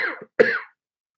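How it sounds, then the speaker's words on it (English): Two close, loud coughs in quick succession from a live TV sports commentator, the second sharper, then silence. "Excuse me, I have to cough."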